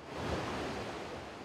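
Quilcay river flowing below a village, a steady broadband rush of moving water heard from a distance, continuous and even with no voices.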